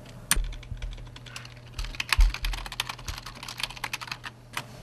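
Fingers type on a computer keyboard in quick, uneven bursts of close clicks, with a few heavier key thumps mixed in and no talking.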